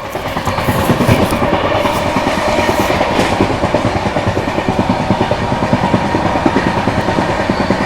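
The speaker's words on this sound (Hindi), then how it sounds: "टावर रेलवे स्टेशन स्किप कर रही है यहाँ पे अपनी बिहार संपर्क क्रांति" Bihar Sampark Kranti express train running through a station, heard from on board as a loud continuous rumble with a steady rapid clickety-clack of wheels over rail joints throughout.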